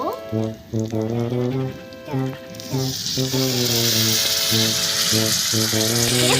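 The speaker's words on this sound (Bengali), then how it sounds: "কষা হয়ে গেছে এবার এর মধ্যে আমি একটু জল দিয়ে দেবো" Water poured into braised meat in a miniature kitchen pan sets off a sudden, steady hissing sizzle partway through that continues to the end, under a person talking throughout.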